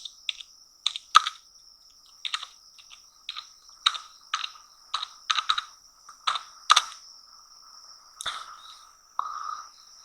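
Close, crisp keystrokes on a computer keyboard come in irregular bursts of typing as tags are entered, with short gaps between clusters and no speech.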